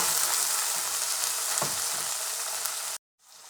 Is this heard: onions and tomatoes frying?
yes